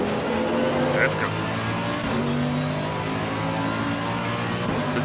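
A race-prepared supercar in the ACC racing game drones steadily, its engine revving and shifting pitch without a break, close and continuous throughout.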